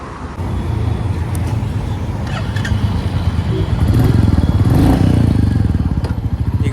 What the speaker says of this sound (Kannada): ಈ ಎಕ್ಸಾಸ್ಟ್ ಏನು ಕೇಳಿಸ್ಕೊಂಡ್ರಿ ಅದು ಸೇಮ್ ಕ್ಲಾಸಿಕ್ 350 ರೀಬಾರ್ನ್ದೆ